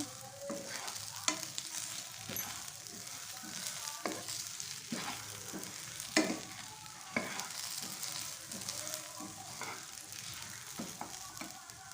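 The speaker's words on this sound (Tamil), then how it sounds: "நல்லா வந்து வதக்கி விட்டுக்கிட்டே இருங்க" Ground masala for a fish curry sautéing in a nonstick pan, giving a soft continuous sizzle with regular scraping and stirring strokes spaced a second or so apart, fairly quiet and without talk.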